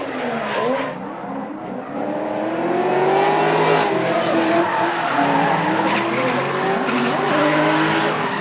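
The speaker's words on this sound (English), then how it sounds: "Let's enjoy the last race, the last drift for the weekend." A race car drifts through a technical section during a drifting event. The tires squeal hard and the engine revs loud and close, sustained over several seconds with no talk.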